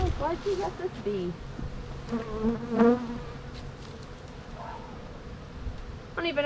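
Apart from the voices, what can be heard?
bees buzzing at a beehive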